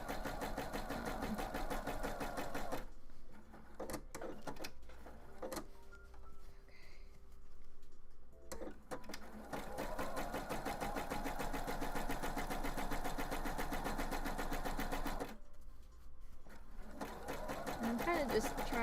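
A sewing machine stitches a zigzag seam on a craft project in bursts of rapid mechanical whirring, pausing between runs, close up, while a person talks over it.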